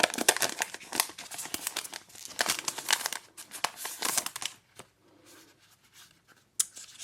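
A passport-size Traveler's Notebook is unwrapped: steady, close crinkling and tearing of plastic packaging for several seconds, then a quieter pause broken by one last crackle, with no speech.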